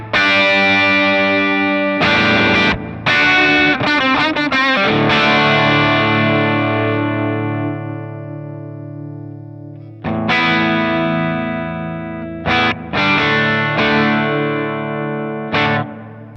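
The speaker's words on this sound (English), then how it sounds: "Let's get a spring reverb, let's turn the mix down, high cut down." An electric guitar plays through an M-Vave MK300 multi-effects unit set to a Vox-style amp into a greenback cab with spring reverb, loud distorted chords ringing out with sustained decays and brief gaps between phrases.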